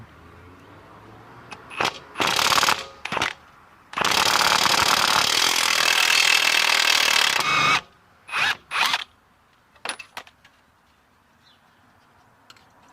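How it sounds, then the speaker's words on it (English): An impact gun takes a nut off the rear suspension of a BMW 123d 1 Series during a spring replacement, with loud rattling bursts of different lengths, one long hammering run, and quieter clicks between them. "I'm going to use an impact gun to get this off"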